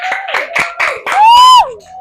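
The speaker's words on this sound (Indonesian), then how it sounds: "Ya, tepuk tangan dulu." A classroom of students claps hands together on cue in a quick rhythmic sequence of about five bursts, followed by a drawn-out voiced shout, close and loud.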